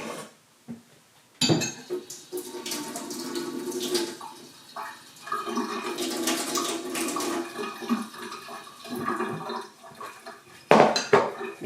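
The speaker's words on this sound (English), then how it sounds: "I'll give this a mix" Whisking a glaze of powdered sugar, vanilla and cold water in a bowl gives repeated clinks and scrapes of utensil against the bowl in uneven bursts, close and fairly quiet, with a few louder clatters.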